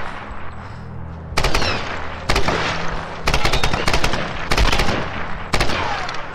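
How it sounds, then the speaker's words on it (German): Gunfire in Tomb Raider Definitive Edition comes as repeated loud bursts of rapid shots separated by short gaps, sharp and close, over a rumbling game background. "Einfach blind in der Gegend rumschießen hier."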